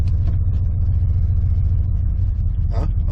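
An old, cheap pickup truck engine rumbles steadily at a low idle as it is shifted into gear, with a brief clunk or rattle near the end and no voices.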